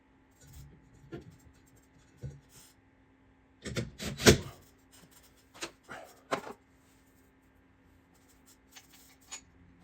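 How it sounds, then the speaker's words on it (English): Screws being driven in by hand while a Caro 52-inch DC ceiling fan is installed, heard as a few scattered scraping, ratcheting bursts with quiet gaps between, the busiest stretch near the middle. "we're gonna start screwing these in"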